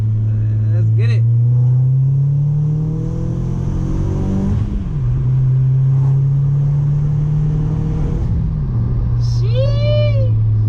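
A Stage 1+ B6 Audi A4 1.8T engine drones and climbs in pitch while pulling through second gear, a loud steady interior rumble with a brief shift dip. People talk over it at the start and end.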